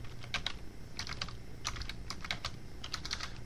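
Rapid keystrokes on a computer keyboard, typed in irregular bursts of light clicks close to the microphone over a low steady background hum, with no voices.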